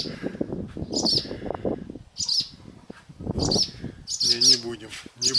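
Swallows chirp in short bright bursts at their nest, close by, repeating every second or so, while a person talks quietly between and under the calls.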